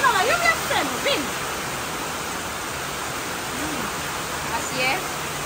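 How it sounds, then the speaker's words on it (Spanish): Heavy rain pours down in a dense, constant rushing hiss. Voices speak over it at the start and again near the end. "pero donde se vino la lluvia, se nos vino"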